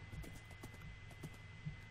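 Horse hooves clip-clop in Minecraft, a quick, faint run of soft hoof steps over a low hum, with no one talking.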